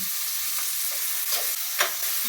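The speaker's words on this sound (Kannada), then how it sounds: "ಹಾಗಲಕಾಯಿ ಹಾಕ್ಕೊಂಡಿದ್ದೀನಲ್ವ, ಅದಕ್ಕೆ 2 ಟೊಮೊಟೊ ಆ್ಯಡ್ ಮಾಡಿಕೊಂಡು ಚೆನ್ನಾಗಿ ಡೀಪ್ ಫ್ರೈ ಮಾಡ್ಕೊತೀನಿ" Bitter gourd and two tomatoes deep-frying in a pan for a bitter gourd sambar, giving a steady broadband sizzle with a few soft stirring knocks, close and alone with no talk.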